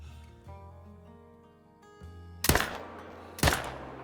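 Two loud, sharp hunting rifle shots from the video game Call of the Wild, about a second apart. Each stands out clearly above a quiet musical background.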